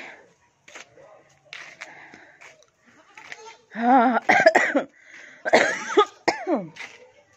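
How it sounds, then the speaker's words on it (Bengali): A woman's harsh, repeated coughing fits at home after a family meal, several bursts spaced unevenly with quieter breathy sounds and a little speech between them, close and fairly loud. "আমার কাশিটা না কিছুতেই কমছে না"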